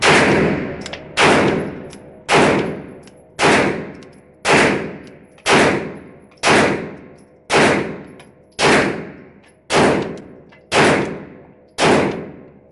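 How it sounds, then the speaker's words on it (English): A Canik TP9 SFX pistol fires from a SIG P226 magazine: eleven loud, evenly spaced single shots, each sharp crack trailing off into echo before the next, with no voices. "We will keep firing and see if we have that problem again."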